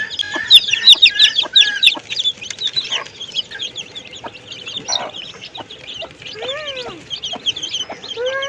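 Chicks being raised on a rooftop garden cluck and peep in quick bursts close by, joined by a few louder fowl calls over a light outdoor background.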